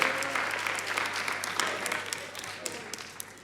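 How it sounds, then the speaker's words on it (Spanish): A crowd at a Bible study gathering claps for a person, dense steady applause that tapers slightly, with voices mixed in under the clapping. "Damos un aplauso a David"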